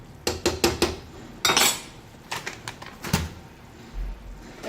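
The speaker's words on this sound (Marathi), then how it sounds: "त्यानंतर इथे मी 1 चमचा व्हाईट पेपर पावडर टाकून घेत आहे." A metal spoon clinks against a bowl while white pepper powder is added: a rapid run of sharp taps, a louder scrape, then a few more clinks, close and clear.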